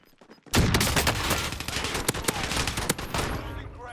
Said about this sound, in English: they're shooting me